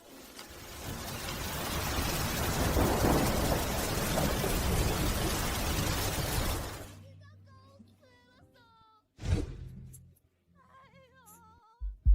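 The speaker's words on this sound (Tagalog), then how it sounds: "Umuulan sa labas." Steady, dense rain roars for about seven seconds, then stops abruptly, leaving quieter sounds and a voice.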